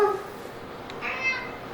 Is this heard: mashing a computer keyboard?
no